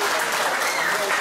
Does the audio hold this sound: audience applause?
yes